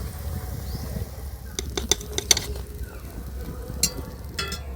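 Jaggery poa pitha, soft puffed fritters, frying in a pan: a low, steady bubbling sizzle with several sharp clinks and scrapes from a utensil against the pan, close by and with no voices.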